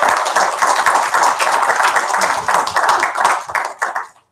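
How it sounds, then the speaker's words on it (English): Attendees at a rural family medicine café session clap for their Twitter coordinator, a brisk burst of close, crisp handclaps that holds steady before thinning out and stopping near the end. "so a round of applause to her"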